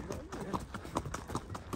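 Horse hooves clip-clop at a steady, regular pace as the horse works cattle. The hoof beats are moderately close and sit over a constant outdoor background noise.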